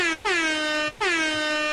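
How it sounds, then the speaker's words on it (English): Two loud blasts of an air horn sound effect, each a long, bright, brassy tone with a slight downward bend, separated by a short gap, heard alone without talk. "that's their version of an air horn"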